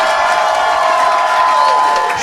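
A comedy club audience in New York cheers and applauds a comedian, a loud, sustained wall of clapping and shouting whoops close up with no pause.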